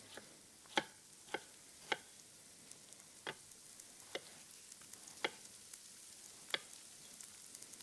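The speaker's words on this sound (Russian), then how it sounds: "Вот я слышу, что лук начинает уже шкварчать." Onion sizzles quietly in a pan while being cooked for Greek-Cypriot soutzoukakia, a soft steady hiss broken by scattered sharp pops and ticks, with no one talking.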